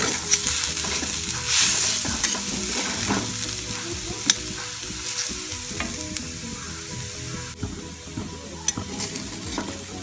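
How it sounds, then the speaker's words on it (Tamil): Cluster bean and lentil usili (kothavarangai paruppu usili) being stirred and broken up in a frying pan: steady scraping and stirring over a continuous close sizzle, with occasional sharper clinks, and no talking. "இப்படி இந்த கட்டியெல்லாம் உடச்சி விட்டு கலரணும்."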